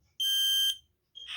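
A smoke alarm pressed for a test blares one loud, shrill, steady electronic tone for about half a second, then stops as another sound starts.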